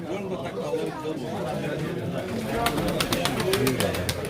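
Game pigeons coo softly amid a busy crowd of chattering voices at a pigeon auction, with an auctioneer talking over the top; rapid clicking bursts appear near the end.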